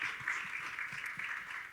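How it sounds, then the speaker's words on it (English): Audience applauding a panelist at a talk event, a dense steady patter of clapping from a crowd at moderate distance, continuous and fairly quiet. "Round of applause for Maurice."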